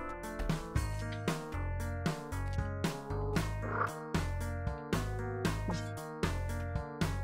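Loud, deep croaks from the Elder Frog in the video game Spelunky repeat in a steady, rhythmic pattern, each croak a short pulsing burst with no talk over it.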